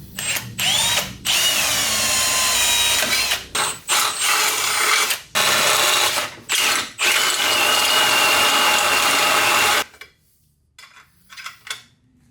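A power drill bores holes for AN fittings during a car build, in repeated long whirring bursts with short pauses, close and loud, ending in quieter scattered clicks and taps.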